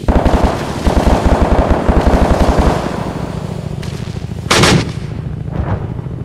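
Gun turret firing in Arma 3 during an escape on Altis, a loud rapid burst of regular heavy shots followed by a sharp blast and rumbling decay.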